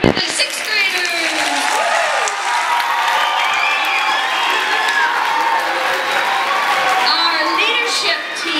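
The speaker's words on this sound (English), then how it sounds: "Let's have another round of applause for our 3rd," An audience at a school Christmas pageant claps and cheers, with whoops and children's excited shouts over loud, sustained applause.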